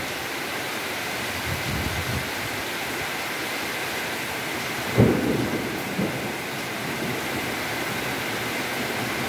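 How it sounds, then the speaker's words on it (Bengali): Heavy morning rain in a village pours down steadily and drips from tree leaves, a dense wash of water noise with two dull thunder thumps partway through and no voices. "এই যে দেখা যাচ্ছে গাছের পাতা থেকে টিপ টিপ টিপ টিপ করে পড়তেছে"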